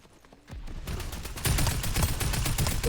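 Rapid bursts of gunfire from a game, a dense crackling barrage that starts after a quiet half second and grows louder and steadier, with no talking over it.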